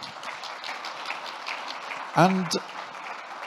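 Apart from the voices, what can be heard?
audience applause at a conference talk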